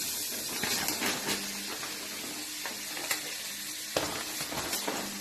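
Minced meat sizzles and crackles steadily in melted margarine in a pan, with scattered stirring scrapes and clicks from a utensil throughout, fairly close and moderately loud, no talk.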